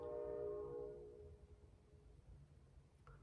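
A train sounds its horn outside in a sustained, moderately distant blast that fades after about a second, leaving a low rumble of rolling rail traffic.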